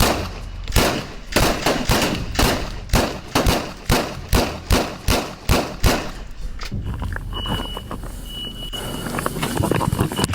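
A storm of police gunfire erupts, a rapid string of sharp, loud shots in close succession that hammer on for several seconds before giving way to noisy outdoor rumble.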